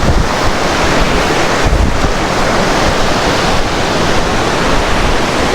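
Strong, cold water rushes through Saklikent canyon in Fethiye, Turkey, making a steady, loud, close roar of churning flow that never lets up, with no voices over it.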